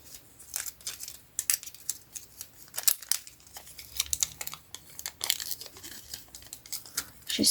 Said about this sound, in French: Et je vais couper là.